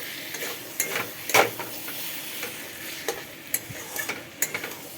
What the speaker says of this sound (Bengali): এইভাবে কষতে থাকবো